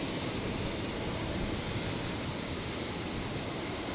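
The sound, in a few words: Virgin airliner touching down on runway at Brisbane airport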